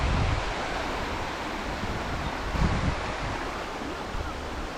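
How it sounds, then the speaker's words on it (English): Stream water rushing near Cheonjiyeon waterfall in Korea, a steady broadband wash of flowing water with some wind buffeting the microphone, continuous and fairly close, with no speech. "And the water is flowing so well."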